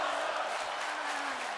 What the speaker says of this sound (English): this crowd showing their appreciation for the risks that these women are taking